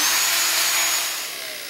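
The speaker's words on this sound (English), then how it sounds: "Pretty amazing to have dust collection on a router, isn't it?" A plunge router fitted with dust collection drives a spiral fluted bit down into wood, giving a loud, high whining roar with airy suction noise that eases off and fades slightly toward the end.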